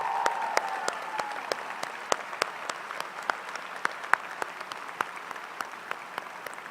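Audience applause rises at a white coat ceremony for an osteopathic medicine class, honoring faculty and staff. Individual claps ring out clearly, scattered and steady over a soft bed of hand-clapping from a moderately sized crowd.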